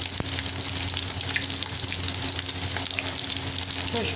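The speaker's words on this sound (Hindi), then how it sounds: "गोश्त भुना जा रहा है" Beef frying in a pot for pulao, a steady close sizzle with occasional stirring scrapes, continuous and fairly loud, no voices.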